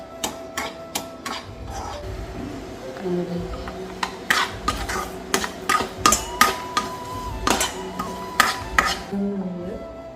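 Green chilli and ginger are sautéed in a pan, with a sequence of sharp metallic scrapes and taps from a utensil against the pan over a low sizzle, close by and fairly rhythmic, while a voice talks faintly in between.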